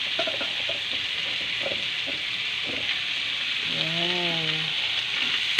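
Bottle gourd (upo) sautéing in a pan sizzles steadily and close-up while it is stirred around, with a brief spoken word and a short tonal sound partway through.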